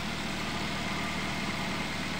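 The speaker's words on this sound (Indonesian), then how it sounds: "Itu mesinnya sudah hidup." A Toyota Avanza car engine idles at a steady, even hum, close and continuous with no rev changes and no voices.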